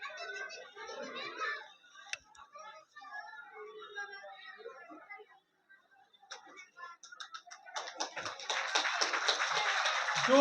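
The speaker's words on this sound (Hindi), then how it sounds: "जोरदार तालियां।" Speech comes first, then a dense wash of clapping builds and stays sustained as the audience applauds at a Republic Day village ceremony in Haryana, welcoming the sarpanch with a flower garland.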